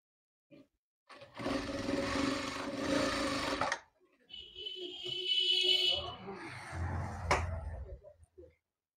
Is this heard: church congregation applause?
no